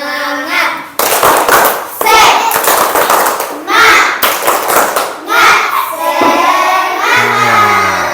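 A classroom of children performs a rhythmic group clapping chant, with loud bursts of synchronized claps alternating with shouted chanting voices.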